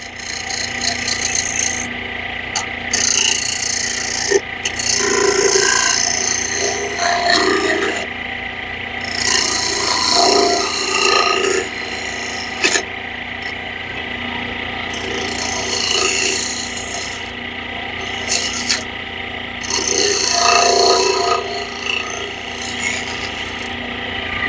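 Hand tool scraping and flattening a wood surface, repeated rasping strokes in bursts with short pauses between, close and fairly loud.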